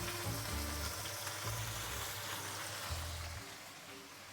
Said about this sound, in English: The capsicum are about to go in.